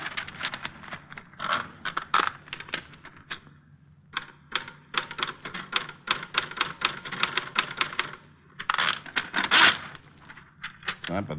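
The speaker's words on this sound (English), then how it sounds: "There's a typewriter." Rapid mechanical typewriter keystrokes clatter in dense bursts with brief pauses, a steady busy rhythm close by in an old-time radio detective drama, with faint background murmur.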